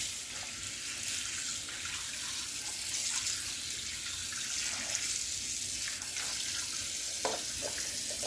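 Water runs steadily from a tap while a part of an Instant Pot is rinsed in a sink, a constant close hiss and splash with slight changes as the part moves under the stream.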